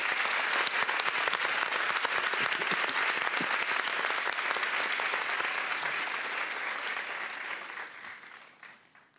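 A studio audience at a Persian TV show gives dense, sustained applause for the guests, loud and even for several seconds before fading out at the end.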